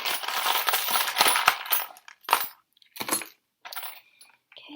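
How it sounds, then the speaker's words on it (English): Metal charms rattle and clink in a box as a hand digs through them, a dense jingling flurry followed by a few shorter scattered rattles, close and fairly loud with no talk. "So I'm just going to dip my hand into the box of charms."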